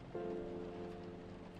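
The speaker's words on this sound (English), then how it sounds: "I really should turn down the rain" Steady rain ambience from the cozy café game Coffee Talk, a continuous soft hiss of falling rain with a low sustained hum running beneath it, fairly quiet and even throughout, with no talking.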